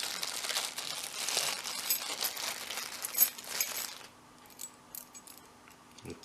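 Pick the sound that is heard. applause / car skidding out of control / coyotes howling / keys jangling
keys jangling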